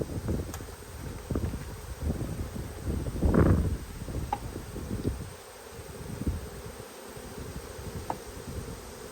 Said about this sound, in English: Now I'm going to shake this box at the front of the hive as well.